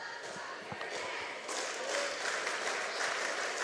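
Enthusiastic crowd at a high school boys' basketball game between International Falls and Proctor, cheering and clapping in a sustained roar that swells louder midway, with cheerleaders leading them on.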